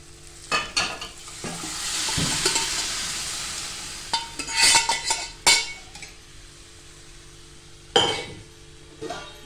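Cooked dal goes into a hot tempering for dal palak, a sizzling swell followed by firm stirring with spatula scrapes and metallic clinks against the pot.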